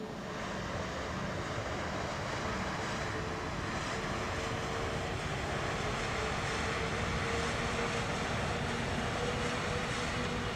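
Airbus A320neo jet engines in reverse thrust after landing in Microsoft Flight Simulator 2020, a broad steady roaring rush that holds loud and even throughout with no speech.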